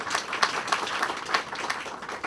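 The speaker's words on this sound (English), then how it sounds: "A round of applause for Helen." Modest round of clapping from a gathered crowd at a ribbon-cutting ceremony, a brief, fairly soft patter of individual claps blending into light, uneven applause.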